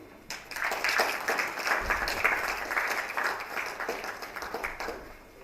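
A room full of people at a book launch applauds, a dense wash of clapping that swells quickly, holds for several seconds, then tapers off.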